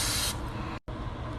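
Cooking spray hisses from an aerosol can onto a ring mold in a kitchen: a loud, close, continuous spray, briefly interrupted near the middle, then resuming.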